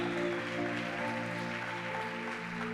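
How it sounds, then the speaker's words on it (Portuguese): A church congregation at a worship conference applauds, a faint, sustained patter of clapping beneath soft, held musical tones. "Aplauda o Senhor nessa hora"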